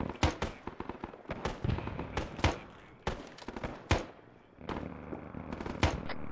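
Rapid gunfire in an Arma 3 Vietnam battle crackles in repeated sharp bursts and single cracks, some loud and close, others trailing off, spread unevenly across the scene.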